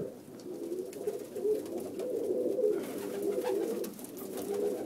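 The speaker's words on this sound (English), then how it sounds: "Looking at the birds." Pigeons in a loft coop holding flight caps, Danes, Canadians and Chinese owls, cooing in soft low repeated rolling calls that overlap continuously from close by.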